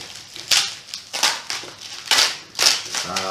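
BP Gur with nuts candy unwrapped from many layers of plastic and tape, giving loud, close crinkling bursts that come in repeated pulses, with no talking.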